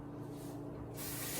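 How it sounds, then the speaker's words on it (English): Tap water runs in a brief, steady hissing spray as a hand is rinsed in a kitchen, fairly close and fairly quiet, swelling slightly at the end. "Rinse off my hand."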